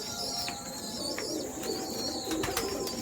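Pigeons coo softly at a breeder's loft, low repeated calls running steadily under a busy background of other birds, with a few brief sharp chirps cutting through.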